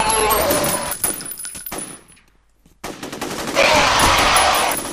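Soldiers fire rapid bursts of gunfire in F.E.A.R. Extraction Point, loud and close. The shooting cuts out briefly to near silence, then returns in a dense, harsh barrage.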